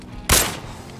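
One loud, booming AX50 sniper rifle shot fired at a vehicle in the mobile shooter Arena Breakout, a sudden crack that decays into a short rumbling tail.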